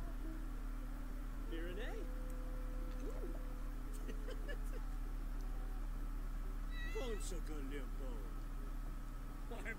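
A cat named Cashew meows several times indoors, short rising calls scattered over a steady background hum, with someone speaking softly in between.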